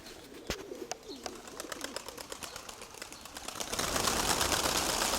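Soft pigeon cooing and scattered wing flaps outdoors on a day of strong westerly wind, with a rising rush of wind noise toward the end.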